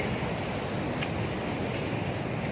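Waves wash steadily against a rocky shoreline on the coast at Batu Kukumung beach in Cidaun, a continuous near surf roar mixed with wind buffeting the microphone, with no voices.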